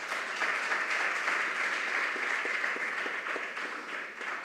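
An audience at a school competition applauds, steady clapping at moderate volume for a few seconds with no voices over it.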